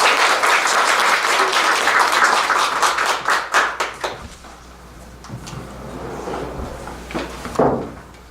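Big round of applause from an audience at the opening ceremony of a Buddhist lecture course, dense clapping for about four seconds, then thinning into scattered claps with a brief swell near the end.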